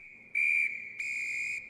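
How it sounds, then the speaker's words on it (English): An ice rink attendant sounds a shrill whistle, a steady piercing tone that swells into two louder blasts, close and clear with no voices. "the man who ran the rink blew his whistle 3 times and dragged Henry off the ice"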